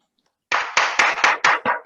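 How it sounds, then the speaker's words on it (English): Participants in an online meeting applaud new members with six or seven sharp, distinct claps in a steady rhythm, close and clear after a brief silence. "Let's have a big round of applause for them."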